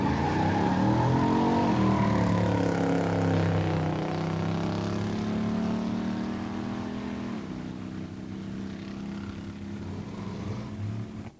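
Two 1967 muscle cars, a GTO 400 four-speed and a Dodge Hemi convertible automatic, drag racing at a pure stock drags event, loud engines roaring and climbing through gear shifts before fading slightly as they pull away.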